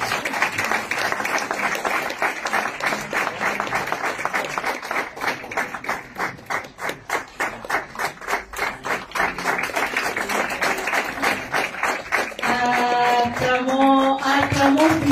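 An audience at a ceremony with a visiting cardinal, held at a hospice, applauds: sustained rhythmic clapping from many hands, steady and fairly loud, with ringing tones near the end.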